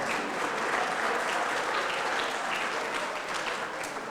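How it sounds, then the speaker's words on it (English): An audience at a neighborhood center ribbon cutting gives a round of applause, an even, sustained roar of many clapping hands with no pause and little voice above it. "Let's give them another round of applause."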